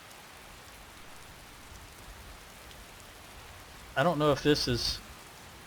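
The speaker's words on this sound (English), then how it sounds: "This rain is something else, I'll tell you that." Steady hiss of rain falling in Skyrim, a dense, even wash throughout, with someone briefly speaking over it near the end.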